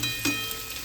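Onions sautéing in a pan for a home-style chicken gravy, a soft steady sizzle and crackle of frying with a brief louder stir partway through, heard alone without speech.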